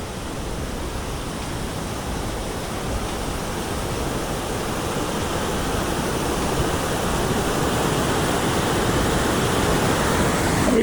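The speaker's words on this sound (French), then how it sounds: "Il y a la cascade là" A mountain waterfall roars as a steady, dense rush of falling water, loud and continuous throughout, swelling slightly louder toward the end, with no voices.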